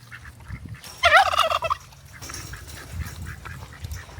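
A burst of loud, rapid bird calls, like a turkey gobbling, stands out briefly over a low outdoor rumble before fading into background noise.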